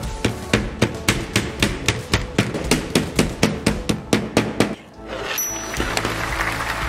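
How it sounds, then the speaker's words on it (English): Silicone strips are hammered into a frame to tension a printed textile, a steady run of sharp, close, evenly spaced hammer blows that stop near the end, leaving quieter handling noise. "and hammer them into place."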